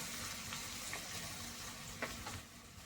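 Onion, ginger and garlic paste frying in oil with ground turmeric, cumin and chilli for a pointed gourd and prawn dish, a soft, steady sizzle with faint crackles and a few stirring scrapes, heard alone.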